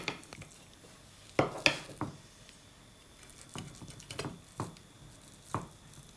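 A knife cutting raw chocolate cherry breakfast bars straight in the pan, making soft, sparse taps and scrapes with a few sharper clacks against the pan, close and quiet.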